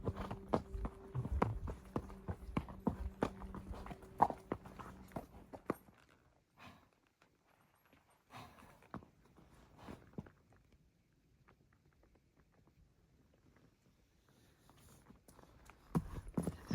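Horses walking while their riders drift cattle south, hooves clip-clopping in an irregular rhythm over quiet outdoor ground, busier at first, then sparse and faint, picking up again near the end.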